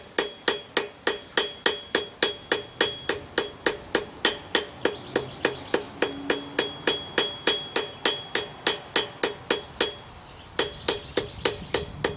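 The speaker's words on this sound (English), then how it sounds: "a cut-off chisel used for striking with a hammer" Rhythmic metal-on-metal hammer blows strike a cut-off chisel while forging a grilling fork from a nail, at an even, quick pace, each sharp ringing tap repeating dozens of times, close up.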